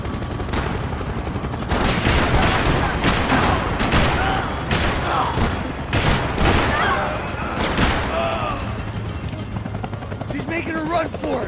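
Rifle gunfire in the video game Max Payne 3, sharp shots cracking repeatedly over a loud, steady helicopter roar, with shouting voices mixed into the chaotic action.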